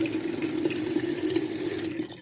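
Warm water runs from a kitchen tap for handwashing, a steady close splashing stream into a sink that holds even throughout and fades slightly at the end.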